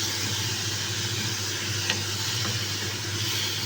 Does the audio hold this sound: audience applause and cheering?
no